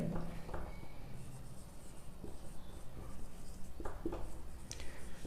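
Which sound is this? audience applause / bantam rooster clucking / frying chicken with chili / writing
writing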